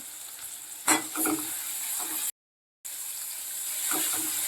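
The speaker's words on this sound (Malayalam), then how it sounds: "ഗോൾഡ് ബ്രൗൺ കളർ ആവുന്നവരെ മീഡിയം ഫ്ലെയിമിലിട്ട് നല്ലപോലെ ഇളക്കി വഴറ്റിയെടുക്കുക" Shallots, garlic, ginger and green chilli sautéing in a pan over a medium flame for Kerala-style fish pickle: a steady hiss of frying with several scraping stirs, close and fairly quiet, broken by a short silent gap.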